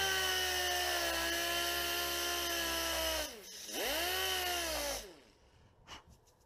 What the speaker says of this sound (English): Very lightly go with the DA sander.